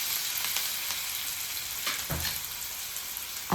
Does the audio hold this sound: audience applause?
no